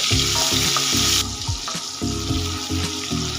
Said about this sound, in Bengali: টমেটোটা তেলের মধ্যে হালকা ভেজে নেব